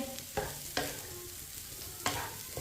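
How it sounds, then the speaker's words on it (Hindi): A spoon stirs semolina halwa cooking in sugar syrup, giving a few sharp scraping strokes against the pan over a soft continuous sizzle, close and fairly quiet. "पाँच मिनट के लिए मैंने पका लिए हलवे को चम्मच चलाते हुए।"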